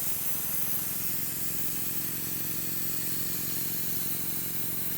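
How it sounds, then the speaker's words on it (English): Switzer budget airbrush spraying air, a steady close hiss with a faint compressor hum underneath, constant throughout. "The airflow through airbrush number 2 seems slightly more consistent."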